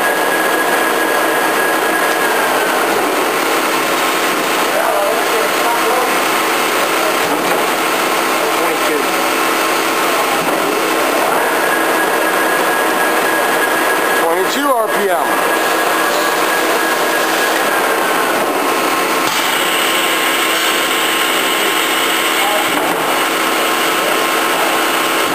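A Lucas horizontal boring mill running at 18 RPM gives a loud, steady mechanical drone with whining tones that come and go, a brief clunk near the middle, and no break in the noise.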